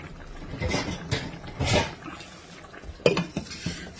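A metal lid set onto a cooking pot of sinigang with pompano and shrimp, a few clattering scrapes and a sharper clank, close and fairly quiet.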